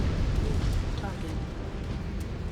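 A giant combat mech blows up when destroyed in MechWarrior 5: Clans, a low, rumbling blast that rolls on steadily under a synthetic cockpit announcer voice.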